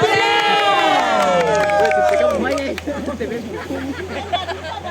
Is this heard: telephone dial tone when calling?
no